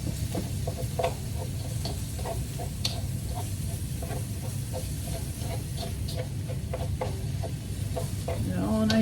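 Ground beef for spicy basil Pad Krapow sizzles steadily in a hot pan while a utensil breaks it into small pieces, giving a constant frying hiss punctuated by frequent soft scraping and tapping clicks.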